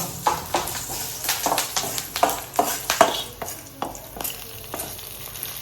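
Horse gram curry being stir-fried, with a spoon scraping and tossing the mixture in a pan in a brisk series of knocks, all over a soft background sizzle.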